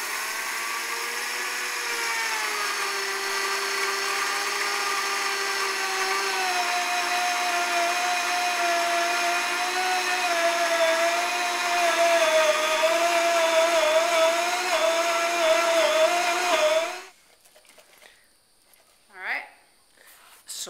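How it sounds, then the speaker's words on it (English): A Blendtec blender grinds sesame seeds with a loud, steady high-pitched whine that shifts slightly in pitch as it runs, then cuts off abruptly near the end, followed by brief faint voices. "So we're going to start with grinding down some sesame seeds."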